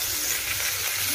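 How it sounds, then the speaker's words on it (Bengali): Onions fry in a pan with dried chilli and bay leaf tempering, a short burst of moderate, steady sizzling heard close up with no speech. "পেঁয়াজ কেটে ভালো করে ভেজে দিতে"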